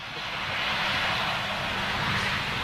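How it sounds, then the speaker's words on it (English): An American Airlines Boeing 777-200 jet airliner, inbound from Dallas Fort Worth, passes at Amsterdam with a loud, steady, broad jet roar that holds evenly throughout, with no voices. "American Airlines 777-200. All the way from Dallas, Fort Worth."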